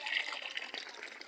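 Free mountain spring water in Lalawigan, Camarines Norte, runs from an open, unclosed tap in a brief, faint, steady splashing trickle.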